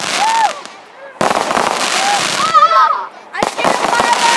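Fireworks burst in loud, broadband cracks across the clip, with a sharp blast at the start and another partway through, while people shout and react over the bangs.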